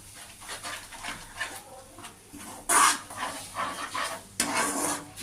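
Masala spiced with turmeric and salt for a pomfret curry sautés in a pan, giving a soft, crackling sizzle broken by scraping stirs, with two louder bursts of spatter.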